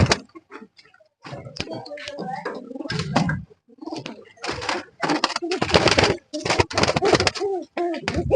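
Female breeder pigeon with a doll-like head, cooing in short bursts close by while people talk over and around it.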